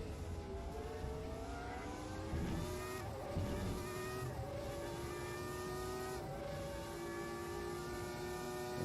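FR X-90 race cars racing at Imola, with a group of five cars: a continuous loud onboard engine drone that rises and falls with gear shifts and revs, plus other cars audible nearby, with no talking.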